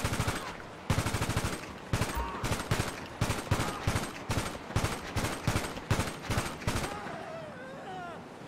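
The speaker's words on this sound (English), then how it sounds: "Don't be trying to shoot me!" Rapid automatic gunfire in GTA 5 Online, steady loud bursts of repeated shots close by, pausing briefly between volleys before the shooting stops near the end.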